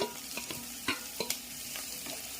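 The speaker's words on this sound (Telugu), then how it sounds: "ఇప్పుడు రెండు మిక్స్ చేసి ఫ్రై చేద్దాము." Bitter gourd and onion pieces frying in a pan, with a steady sizzle and scattered sharp scrapes and clicks as a spatula stirs them, close and alone.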